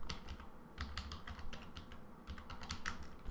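Quiet, close typing on a computer keyboard: irregular bursts of key clicks with short pauses between words, no voices.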